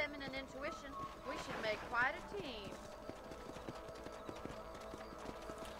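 Horse hooves clip-clop in the video game Red Dead Redemption, a steady run of regular hoof strikes under voices and a brief whinny-like cry early on, fairly quiet overall.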